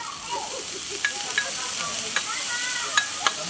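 Bacon sizzles in cast iron skillets on a barbecue, giving a steady bright hiss with a few sharp pops and crackles scattered through it. The sound is close, and no one speaks.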